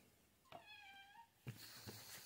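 A cat meows once, a drawn-out, rising-then-falling cry, followed by a couple of short sharp bumps nearby in a quiet room.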